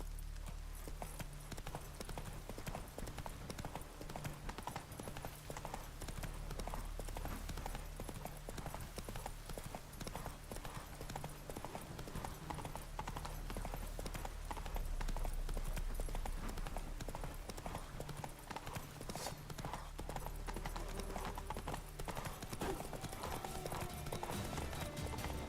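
Roach, the horse in the video game Witcher 3, gallops with a steady, continuous drumming of hooves over a low ambient bed. The rhythmic clip-clop runs unbroken and stays fairly close throughout.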